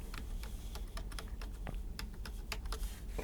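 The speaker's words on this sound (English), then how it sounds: "I'll type my password" Password being typed on a computer keyboard: a steady run of quick, close key clicks with irregular spacing, alone over a low background hum.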